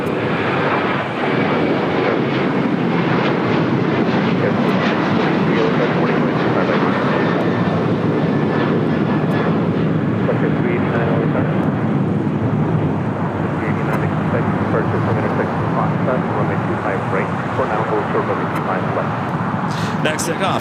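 A Boeing 737-900ER jet roars down runway 25 right at LAX on takeoff, a loud, sustained broadband engine rumble filling the whole stretch, with talk heard faintly beneath it.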